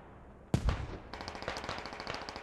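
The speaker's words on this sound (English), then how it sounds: "That was a hell cannon shot" A sudden heavy boom from a hell cannon in Squad, set in a Fallujah invasion battle, followed by a rapid rattle of distant automatic gunfire continuing to the end.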